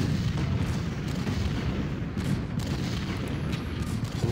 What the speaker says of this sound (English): We're still waiting just for the artillery to soften the enemy up